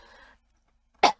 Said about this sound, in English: I also have to clear my throat.